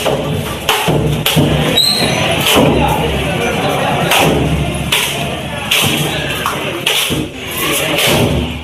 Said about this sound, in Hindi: 108 नारियल चढ़ाए गए, जश्न में फोड़े गए